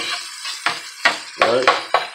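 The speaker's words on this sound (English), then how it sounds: "If you want to saute it up real good, just saute it." Breakfast frittata ingredients, including chorizo, sautéing in a pan, heard as a loud steady sizzle broken by several sharp clatters of a utensil scraping and stirring.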